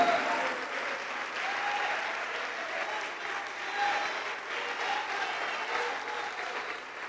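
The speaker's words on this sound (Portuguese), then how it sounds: "vamos aplaudir mais, igreja" A church congregation claps together during a worship service, sustained applause from a crowd that rises and dips slightly but continues steadily, with faint voices mixed in.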